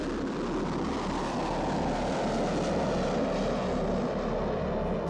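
Engine of a V-1 flying bomb, the wartime doodlebug, droning steadily and loudly as it passes overhead, a continuous rough roar with no voices.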